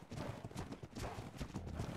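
Horse galloping in the survival game ARK: Ragnarok, a quick, steady drumming of hoofbeats on the ground, moderately loud and continuous with no talk over it.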